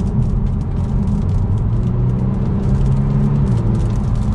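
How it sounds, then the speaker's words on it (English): A 2022 Genesis G70 with a twin-turbo V6 accelerates mildly, giving a steady loud low engine rumble and road drone heard from inside the cabin, with no talk. "Just a mild acceleration."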